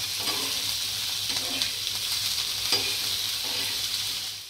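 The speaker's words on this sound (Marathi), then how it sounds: "टोमॅटो पण त्यात टाकून घेते आणि टोमॅटोचं थोडासा शिजेपर्यंत मसाला भाजायचा आहे आपल्याला बारीक गॅसवर" Masala and tomatoes roasting in a pan over low gas for an egg curry, a steady close sizzle with faint scraping stirs throughout, no voices.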